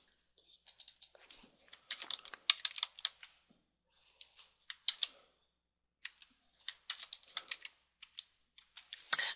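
Typing on a computer keyboard, clusters of quick light key clicks in irregular bursts with short pauses, close and clear against near silence.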